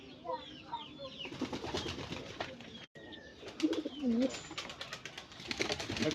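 Pigeons coo in low, rolling calls while other birds chirp and twitter throughout, over a steady background murmur with a brief dropout partway through.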